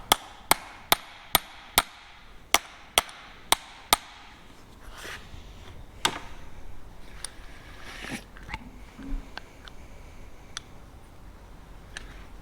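Sharp metallic hammer strikes drive back steering brake pins on an FV4005 tank, eight evenly spaced ringing blows in quick succession, then sparser clanks and handling noise at close range.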